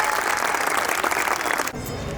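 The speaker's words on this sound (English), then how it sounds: "give them a huge round of applause, everyone" A crowd at a preschool annual day claps in a dense, steady burst of applause that cuts off abruptly near the end, leaving a quiet room hum.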